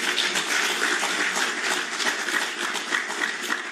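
An audience at a conference on mental health applauds, producing a dense, steady wash of many hands clapping throughout, fairly loud and with no voices.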